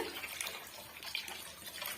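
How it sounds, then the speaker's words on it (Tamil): Water pours steadily from a vessel into a pot of rasam, a close, continuous splashing gush with no talking. "இப்போ தேவையான அளவுக்கு தண்ணி சேர்த்துக்கலாங்க"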